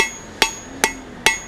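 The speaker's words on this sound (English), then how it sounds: "You can see this hammer is really coming in on those edges" Blacksmith's hammer strikes hot steel while forging a leaf, three sharp ringing blows spaced evenly about every 0.4 seconds, loud and close, each leaving a bright metallic ring that fades before the next.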